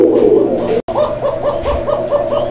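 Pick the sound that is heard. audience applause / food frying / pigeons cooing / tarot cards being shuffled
pigeons cooing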